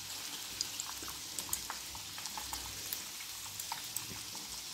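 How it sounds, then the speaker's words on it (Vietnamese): Chicken pieces fry in hot oil in a home kitchen, a soft continuous sizzle with scattered small pops and crackles, quiet and steady with no talking. "Bây giờ là chiên cái món cuối cùng rồi á mọi người, đó chính là cái gà."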